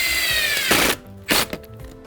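A screw gun drives screws through plastic strips on a DIY garden greenhouse frame, giving a long whining drill burst and then a second shorter one, close and loud with no talking.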